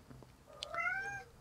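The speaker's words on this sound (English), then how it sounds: "my cat's meowing in the background" A pet cat meows once in a drawn-out, rising-then-falling call, fairly close and clear, with faint room noise around it and no talking.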